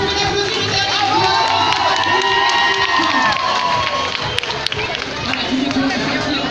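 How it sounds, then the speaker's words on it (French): Lively crowd cheering and applause for a young prize winner at an awards ceremony after a running event, with children shouting and whooping over continuous clapping. "Allez, vous pouvez l'applaudir une dernière fois."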